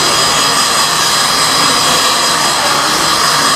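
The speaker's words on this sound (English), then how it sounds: "You can see the hair dryer is blowing it." A steady, loud broadband whoosh of a hair dryer blowing continuously and close, with no pauses and no voices.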